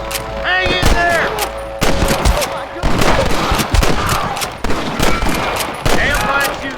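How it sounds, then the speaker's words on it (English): Gunfire crackles through a shootout in Red Dead Redemption, with repeated rifle and pistol cracks in dense overlapping volleys across the whole stretch, loud and near, mixed with shouted voices. "Damn fine shooting, boys."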